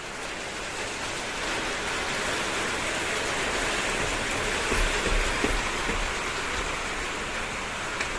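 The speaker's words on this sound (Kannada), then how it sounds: "ಸರಿ ಟೈಮ್ ಮಳೆ ಸ್ಟಾರ್ಟ್ ಆಯ್ತು ಜೋರ್ ಬರ್ಬೋದಾ" Steady, dense rain pours down close by as a continuous broadband hiss that holds at even loudness throughout, with a few soft patters and thuds mixed in and no voices.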